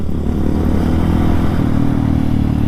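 A Yamaha WR155 motorcycle engine idles steadily after routine servicing, a loud close throbbing rumble with an even mechanical pulse that holds without revving, with no talk over it.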